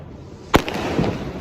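A Kali Puja firework bursts with a single sharp bang, followed by a crackling, rumbling tail from other fireworks going off nearby.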